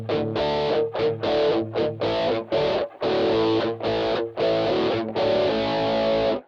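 Electric guitar played through an original, unmodified MXR Rockman X100 with almost no effect, just a faint trace of chorus, strummed in loud sustained chords separated by short breaks.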